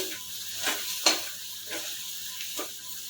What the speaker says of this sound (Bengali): গ্যাস একদম রোটে রেখেছি এটাকে মিনিট পাঁচের সময় ধরে ভালো করে ভেজে নেব ভাজা ভাজা করে নেব